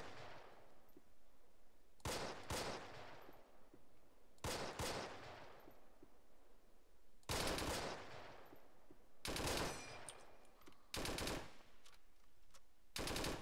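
Bursts of automatic gunfire crackle in a WW2 video game, several loud volleys separated by short quieter gaps, some longer and more sustained than others.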